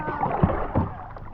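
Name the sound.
kayak paddle splashing in water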